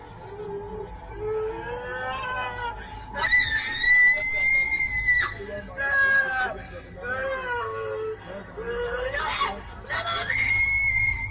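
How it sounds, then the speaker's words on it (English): A girl screams wildly and continuously in high, wavering cries while women pray over her, the shrieks loud and close with breaks between bursts and voices murmuring underneath. "Although they pray, she continues to scream wildly."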